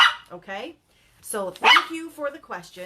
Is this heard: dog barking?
yes